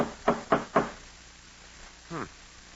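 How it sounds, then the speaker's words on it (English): An ornate door knocker strikes a door three times in quick, sharp succession, fairly close, followed by quiet and a brief low voice or creak near the end. "Funny they'd have a fancy door knocker like this way up here."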